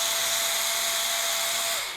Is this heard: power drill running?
yes